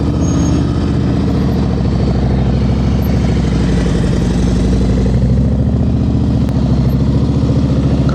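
A motorcycle idles and putters along at slow speed on a practice course in Florida, its steady low engine rumble loud and continuous throughout, with no voices.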